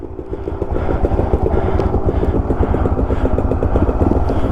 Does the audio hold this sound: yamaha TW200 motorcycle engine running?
yes